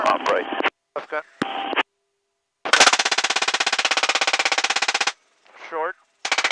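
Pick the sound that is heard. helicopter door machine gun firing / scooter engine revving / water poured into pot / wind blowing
helicopter door machine gun firing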